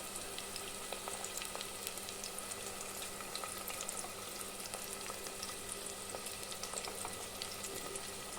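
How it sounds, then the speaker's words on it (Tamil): Onions and curry leaves sauté in oil for a duck curry, giving a steady, soft crackling sizzle that runs evenly throughout without any voices. "இந்த வெங்காயம் நல்லா வதங்கி வரட்டும்."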